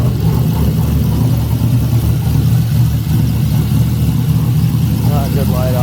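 Mazda Miata swapped with an LS-family LC9 V8 idles while warming up, giving a steady, close, low, burbling rumble throughout, with faint voices in the background.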